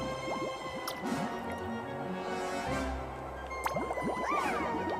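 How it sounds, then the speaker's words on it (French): In the Mario + Rabbids Sparks of Hope video game, a water splash attack plays as a wet, dripping, squishy burst with scattered droplet sounds over a busy game soundtrack. "Attaque aquatique. C'est éclaboussure,"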